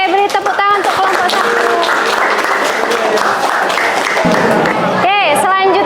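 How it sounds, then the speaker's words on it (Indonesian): A classroom group presenting a lesson receives applause, a steady burst of clapping from students that fills the room, with a voice speaking over the start and again near the end. "Oke, beri tepuk tangan untuk kelompok"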